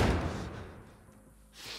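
Heavy door slams and thuds as doors are barricaded in the video game The Last of Us Part 1, a loud low impact at the start fading into a dull rumble, with a second bump near the end.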